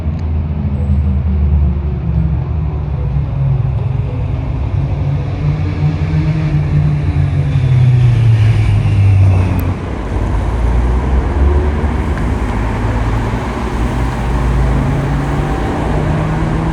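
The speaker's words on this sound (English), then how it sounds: "There's still a lot of traffic at the moment" Steady roadside traffic near Lake Garda in Italy, cars and larger vehicles passing continuously close by with rising and falling engine and tire rumble, loud and unbroken with no talk.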